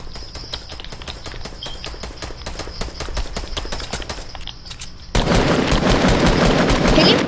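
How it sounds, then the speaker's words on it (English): Rapid gunfire in a console shooter comes as a steady stream of sharp, evenly spaced shots. The volume jumps partway through, and the dense burst turns louder and closer toward the end. "Someone shooting at me. From west."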